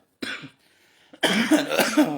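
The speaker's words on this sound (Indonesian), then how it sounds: "Batuk" Two coughing bursts with a short pause between them, the second louder and rougher, heard up close with no talking.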